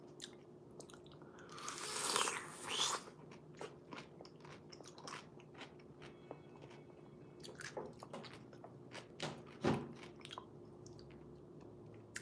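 Crunchy pickle bitten and chewed close to the mic, with a loud crunch near the start followed by softer wet chewing and squishy bites, another sharp crunch near the end.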